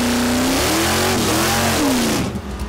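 Drag racing cars' engines rev loudly at the start line with rising and falling pitch sweeps, the roar swelling as the cars accelerate hard, then easing at the end.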